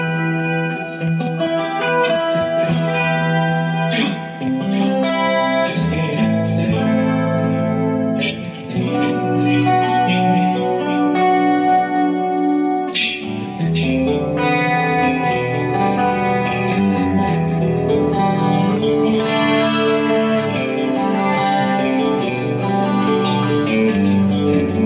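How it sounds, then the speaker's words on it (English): Electric guitar through a Bugera 333XL amp's clean channel with chorus and delay, played continuously and shimmering, with no voices throughout. "Clean channel, add a bit of chorus, and a bit of delay,"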